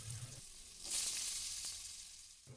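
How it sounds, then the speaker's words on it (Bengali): Potato pieces frying in mustard oil in a wok, a soft close sizzle with faint stirring, steady and quiet throughout. "নুন আর হলুদ ছাড়াই আলুগুলোকে নেড়েচেড়ে একটু লাল লাল করে ভেজে নেব"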